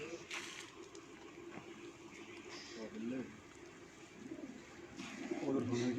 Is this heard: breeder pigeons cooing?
yes